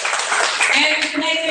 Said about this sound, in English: Let's give her a big applause once again.